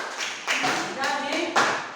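A class claps hands in a classroom, a few short bursts of clapping in quick succession mixed with voices, close and moderately loud.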